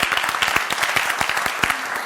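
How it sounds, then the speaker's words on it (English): An audience at a closing plenary and awards ceremony claps for itself, a loud, thick burst of applause with distinct near claps standing out, brief and continuous. "Please, a big round of applause for yourselves."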